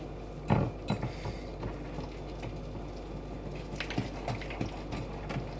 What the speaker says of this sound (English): Mash our egg yolk up. Mix it a little bit.